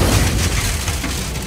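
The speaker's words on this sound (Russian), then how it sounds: "88-й калибр! Это танк!" A Tiger tank's 88mm gun fires in a WWII battle scene between American Shermans and a German Tiger: a loud, sustained booming blast with rumbling low-end roar filling the whole moment, no voices over it.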